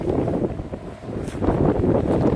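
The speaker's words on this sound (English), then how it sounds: "It's still very windy." Strong wind in France buffets the microphone in a steady, heavy rumble that dips briefly and then surges again.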